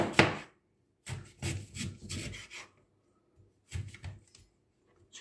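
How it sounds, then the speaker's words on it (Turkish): Turnips cut into slices with a knife, a few separate bursts of cutting and scraping on a board with quiet gaps between them. "Şöyle önce şalgamlarımı dilim dilim kesiyorum."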